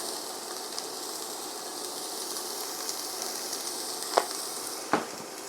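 Onions softening in a pan with a pinch of salt give a steady, soft sizzle that runs throughout, broken by two brief clinks of a utensil near the end.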